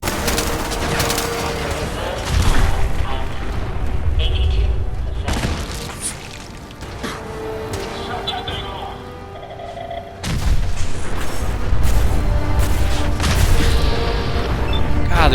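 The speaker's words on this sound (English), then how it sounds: "God, there's so many explosions going on right now" Dense, rapid-fire explosions and gunfire from a Fallout 4 battle, with a Demolitionist build and robots fighting, come as booming bursts and rattling volleys, loud and continuous, dipping briefly in the middle before surging again.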